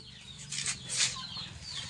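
Nearby chickens give a few short clucks over a steady low hum, along with some brief rustling or fluttering.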